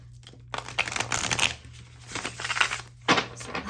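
Papery crinkling and rustling of tarot cards being shuffled in a few quick bursts, close by, with brief pauses between.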